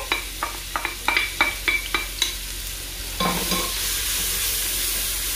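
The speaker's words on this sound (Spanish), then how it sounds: "Le echamos la cebolla y el ajo." Chopped onion and garlic go into plenty of olive oil in a home kitchen pan for a chickpea stew. A few light scraping stirs come first, then a steady, close sizzle of frying that continues to the end.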